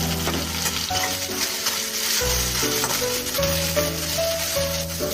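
Potatoes and peas fry in a pan, a continuous loud sizzle with scraping and stirring sounds running throughout, close up and without talk.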